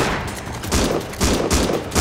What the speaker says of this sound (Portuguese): Tá atirando na gente, ó.